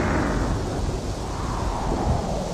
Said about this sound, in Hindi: आंधी तूफान शुरू हो गया और बिजली कड़कने लगी